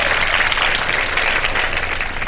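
A studio audience at a televised quiz show applauds, a thick, continuous roar of many hands clapping at once, loud and sustained throughout.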